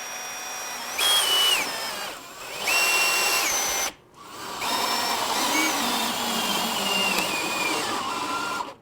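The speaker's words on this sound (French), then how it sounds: "On est prêt à faire le trou." Power drill with a small bit drilling a hole in a top case for a Can-Am Spyder or Ryker, two short whining bursts followed by a longer sustained run with a changing pitch, close and loud.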